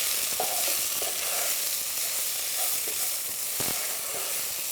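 Onion, garlic, ginger, turmeric and paprika frying together in a pan, a loud, dense, continuous sizzle with faint scrapes of stirring scattered through it, close up and without speech.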